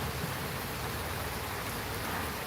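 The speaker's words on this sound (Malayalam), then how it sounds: "നമ്മുടെ നാട്ടിൽ നല്ല മഴയാണ്" Heavy rain falls steadily in a dense, even hiss of drops hitting surfaces. The rain continues without pause, and no voices are heard.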